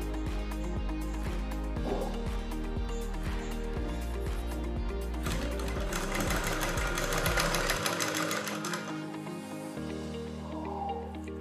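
A sewing machine stitches a kurti seam in a home tailoring session, running in a steady rapid mechanical chatter at close range that pauses and restarts in short bursts, with no talk over it.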